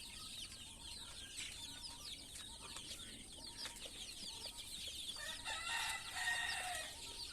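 Desi chickens in a shed housing around 120 forty-day-old chicks, with steady chirping and clucking from many birds throughout, moderately close and continuous, with no one talking.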